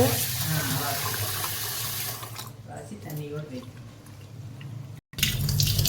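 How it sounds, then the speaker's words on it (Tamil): Varagu millet being rinsed in water for upma, with running tap water and sloshing in a vessel, loud at first then quieter splashing and a brief stop before the flow resumes. "இப்போ வந்து நான் தண்ணியில் அலாசிடுறேங்க"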